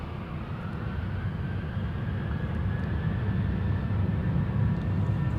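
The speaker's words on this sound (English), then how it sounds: "This is a KLM to Glasgow. It's a 737-800 KLM flight 937." A 24-year-old KLM Boeing 737-800 departing Amsterdam Schiphol for Glasgow gives off a deep, steady engine rumble with a thin whining tone, gradually growing louder over a few seconds, with no voices.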